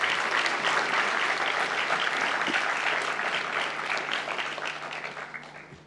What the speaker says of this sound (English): please join me in giving your faculty a well-deserved round of applause